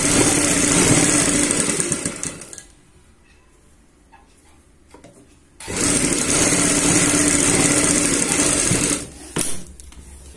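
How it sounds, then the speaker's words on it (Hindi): A sewing machine stitches kurti fabric in a fast, loud whirring run, stops for about three seconds of near quiet with faint handling sounds, then runs again at the same pace before a brief stop and restart. "पक्का करते हुए यहाँ पे सिलाई लगाते हुए चलेंगे"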